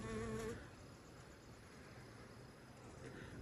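A honeybee buzzes faintly and steadily while pulling out its sting, a thin, close insect drone over quiet background noise, louder for a brief moment at the start.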